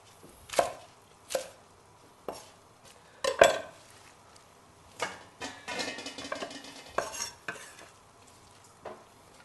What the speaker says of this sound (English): we don't want to slice a salad too fine, otherwise when you dress it, it'll become like compost